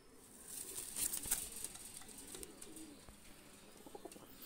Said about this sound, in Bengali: দুইটা কবুতর আমি ছেড়ে দেখাচ্ছি